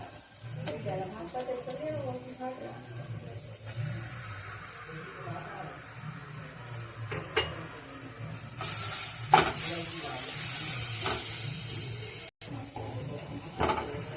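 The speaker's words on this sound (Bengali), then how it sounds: "পেঁয়াজটা ভাজা হয়ে গেছে এবার আমি রসুনটা দিয়ে দেবো" Garlic is frying in oil in a pan after onions, giving a soft sizzle with stirring and scraping, a louder burst of hiss partway through, while someone talks over it.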